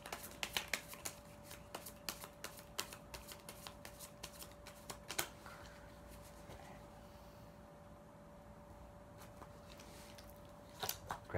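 Tarot cards shuffled in repeated crisp riffling bursts, a steady run of close, quiet card snaps with a faint low hum underneath and no talking.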